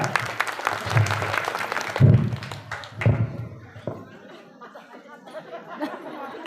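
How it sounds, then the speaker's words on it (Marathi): Women at a village game event clap together in a burst of applause that thins into scattered claps and a few thumps after a couple of seconds, with faint chatter and light laughter underneath. "यांच्यासाठी जोरदार टाळ्या"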